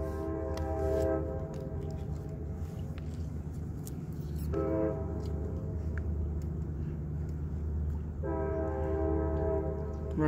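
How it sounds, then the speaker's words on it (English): A passing train rumbles steadily while its horn blows three separate blasts, the first and last long and the middle one shorter, heard from a moderate distance. "It's not an airplane, it's always a train coming by."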